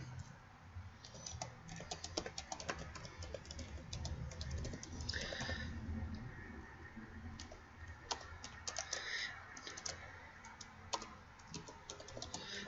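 Typing on a computer keyboard: quiet, steady clatter of key presses in irregular bursts, with no talking.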